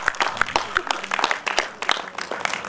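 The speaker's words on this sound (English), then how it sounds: "please give him another round of applause" An audience at the International Film Festival of India in Goa applauds an honoree, steady crowded clapping filling the hall, fairly close and continuous throughout.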